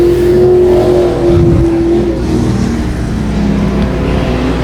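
A race car on a speedway's front straightaway, its engine a loud steady drone with a sustained pitch that shifts slightly as it runs past, heard from trackside with no one talking.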